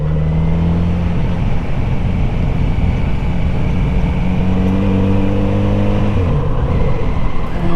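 Steady engine drone from a Kawasaki Z900RS motorcycle cruising a rough rural backroad near Baker, West Virginia, with a constant tone, shifting harmonic pitch and wind noise the whole way through.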